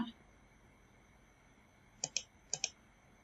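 A computer mouse clicks while a picture is inserted into a shape in office software. Two quick double-clicks sound close together near the end of an otherwise quiet stretch.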